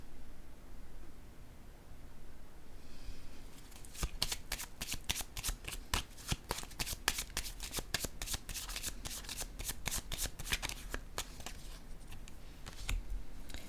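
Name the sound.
handling and laying down a card in a card reading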